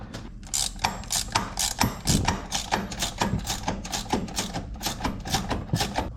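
A ratchet wrench tightens a bolt on a Chevrolet Silverado suspension, giving off a steady run of sharp, close mechanical clicks in quick bursts, with no talking over it.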